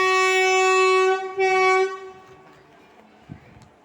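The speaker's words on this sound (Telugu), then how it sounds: "ట్రైన్ అయితే కదులుతుంది." A train at a railway station sounds a loud, sustained horn for about two seconds, then the rumble of the moving train fades to a quieter background.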